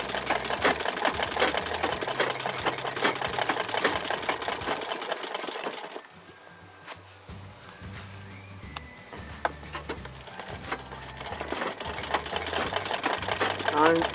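Domestic sewing machine stitching embroidery thread around the outline of a small leaf, a steady fast mechanical whirring that slows and quietens midway, then picks up again, close by.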